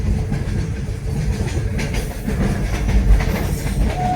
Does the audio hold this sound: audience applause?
no